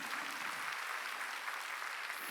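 A church congregation at a Korean Sunday worship service applauding together, a dense, steady wash of clapping from many hands throughout, fairly loud and even with no speech over it.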